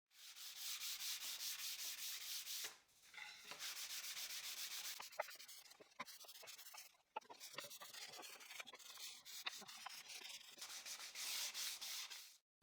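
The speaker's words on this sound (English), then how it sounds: "I will sand by hand, especially on the corners, to prevent them from being too sharp." Hand sanding of a small decorative wood piece with 220 grit sandpaper: steady, rasping back-and-forth strokes in long bursts, with a short pause and a few light knocks between passes, close and alone.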